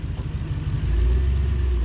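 A Toyota 3UZ V8 engine in a 4x4 idles steadily nearby, a low continuous rumble that settles to an even idle after a slight rise.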